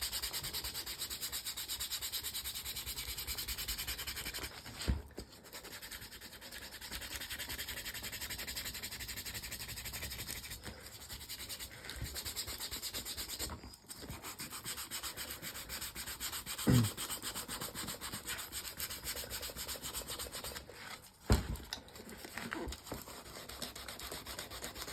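Cheap sandpaper rubbing on the toe of an ammo boot in a continuous close scratching hiss with a few short pauses and bumps, no talking.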